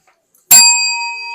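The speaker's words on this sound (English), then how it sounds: "All right, Kathy Young, you get the first bell of the night." A single bright bell ding rings once, loud and close, and its clear metallic tone slowly fades, marking the first sale during a live online tourmaline gemstone auction.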